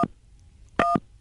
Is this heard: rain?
no